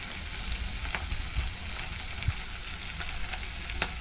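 Masala mix being sautéed in a pan for a chana dal and snake gourd dish, a soft steady sizzle with scattered crackles and occasional stirring scrapes, fairly quiet and close, with no voices.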